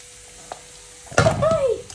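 Leftover rice dropped into a hot frying pan for fried rice, a sudden loud sizzle and stirring rattle after a quiet start, with a voice briefly heard.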